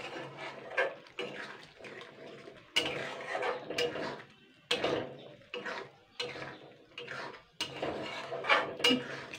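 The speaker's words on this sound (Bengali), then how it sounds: "এইভাবে আমি নাড়াচাড়া করে নেব।" A spoon stirs egg curry (egg torka) seasoned with Maggi masala in a pan, making repeated close clinks and scrapes against the metal in uneven bursts with short pauses between them.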